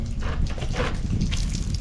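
Water splashes and streams steadily onto freshly poured concrete stairs as they are watered down, a close, continuous liquid rush with small drips running throughout.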